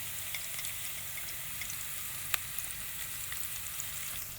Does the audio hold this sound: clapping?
no